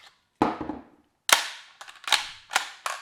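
A Kriss Vector gun is unloaded and cleared in a series of sharp, loud metallic clacks and snaps, one isolated hit followed by a rapid cluster of mechanical clicks close by.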